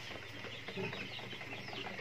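A Rhode Island Red rooster clucks and grumbles in short low calls against a steady background hum, heard close and fairly faint.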